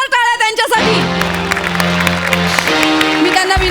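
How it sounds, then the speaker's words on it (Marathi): An audience at an award show bursts into loud applause and cheering for a lifetime achievement award recipient, the clapping rising after a brief speaking voice and continuing under music and crowd noise. "एकदा जोरदार टाळ्या त्यांच्यासाठी."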